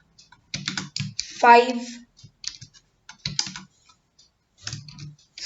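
Numbers are typed on a computer keyboard while writing a Python function call, with scattered crisp key clicks heard between bursts of a man's speech.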